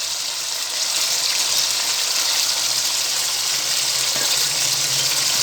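Garlic paste frying with already-fried onions in a pan for a spinach mutton dish, giving a steady, dense sizzle throughout with a faint clink near the end and no talking.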